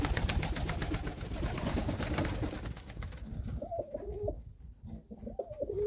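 A dark pigeon in an aviary coos in low, rolling phrases that repeat through the second half, close and clear, following a stretch of broadband rustling noise at the start.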